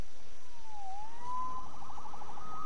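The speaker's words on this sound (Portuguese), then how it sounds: "Salvo pela sirene." A police car siren in the video game Marvel's Spider-Man wails with a sliding, rising and falling tone over a constant city background hum, then shifts into a faster warbling pattern, steady and moderately loud with no speech.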